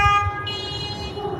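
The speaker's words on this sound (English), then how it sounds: "as soon as she starts honking like a crazy person" A car horn honks on a residential street, a sustained, steady blare that holds for the whole moment, close and fairly loud.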